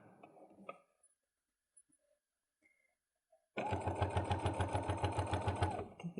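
A sewing machine top-stitches a coin purse, starting after a near-silent stretch with a few faint handling taps, then running in a loud, close, steady rhythmic chatter of stitches.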